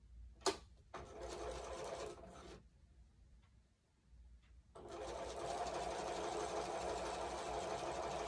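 A sewing machine stitches half-square triangles for a quilt. A loud close-up run is followed by a quiet pause, then a longer steady whir that carries on to the end, with a sharp click near the start.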